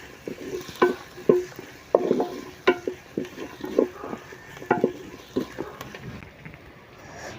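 Onions, garlic, shallots, ginger, green chilies, curry leaves and coconut pieces sauté in a pan for a toddy-shop style chicken curry. A spoon scrapes and clinks in an irregular rhythm over a soft, low sizzle, up close.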